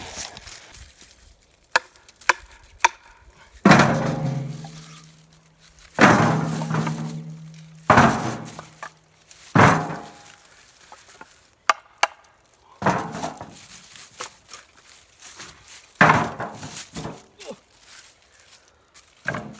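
Dead toyon hardwood firewood being chopped or split outdoors, several loud, sharp cracking impacts spaced a second or two apart, each ringing briefly, with smaller knocks and clatter of wood between them.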